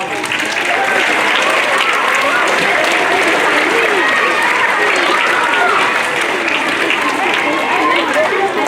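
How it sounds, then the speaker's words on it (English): A school auditorium audience at an elementary grade 3 assembly claps loudly and continuously, a dense close wash of applause with murmuring voices mixed in. "A big applause for the courage shown by Maria Rowley"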